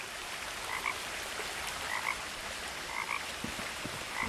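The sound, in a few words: frog croaking in video game What Remains of Edith Finch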